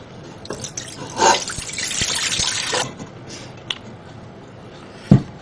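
Salty brine is poured off soaked, shredded cabbage being prepared for sauerkraut, a splashing pour of water for a couple of seconds followed by a few scattered drips and a soft clunk.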